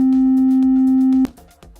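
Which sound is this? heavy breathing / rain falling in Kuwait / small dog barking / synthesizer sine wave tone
synthesizer sine wave tone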